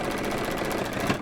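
Juki sewing machine stitching steadily at speed, a dense, continuous mechanical whir with a fast rhythmic needle patter, close and fairly loud throughout.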